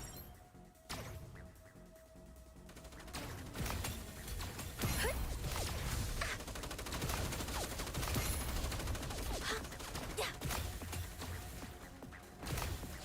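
Gunfire and crashing impacts in a Fortnite match: a busy, fairly quiet stream of rapid shots, clanks and thuds that runs almost without a break.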